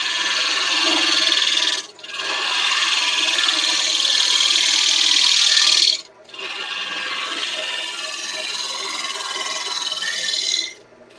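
A router fitted with a carbide roundover bit cutting wood, producing loud, harsh, high whining passes of a few seconds each, separated by brief pauses.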